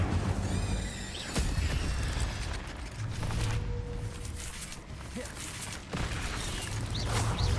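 Incendio fire spell cast in the video game Hogwarts Legacy, with sharp bursts and whooshes over a dense, loud backdrop of game effects and ambient noise.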